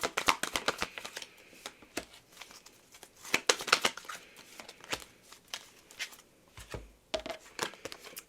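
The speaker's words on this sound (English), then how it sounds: "So I'll get a few more oracle cards and see what else you need to know." Oracle cards being shuffled by hand: a quick run of crisp riffling snaps and papery slaps in irregular bursts, close and fairly quiet, with no talking.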